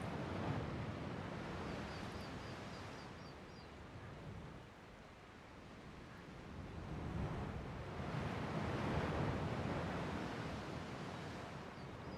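Steady ocean surf from a video game, a continuous broad wash of breaking waves that swells and eases gently over time, with faint wind-like hiss and no speech.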